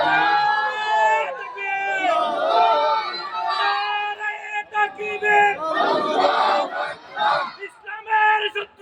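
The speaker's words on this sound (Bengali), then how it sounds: "তাকবীর দিয়ে আল্লাহকে শোনায় দাও।" A crowd at an Islamic religious gathering in Bangladesh shouts the takbir in unison, loud massed voices rising and falling in repeated waves of chanting and cheering with a lead voice among them.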